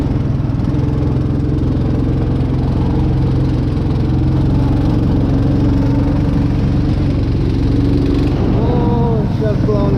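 A loud, steady engine rumble from an Uragan all-terrain vehicle setting off through deep snow in the taiga, running continuously up close with a faint voice under the noise.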